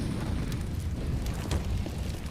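A pair of grenades going off in a pro CS:GO match on Inferno, a dense rumbling low boom sustained throughout with a couple of brighter bursts, loud and close.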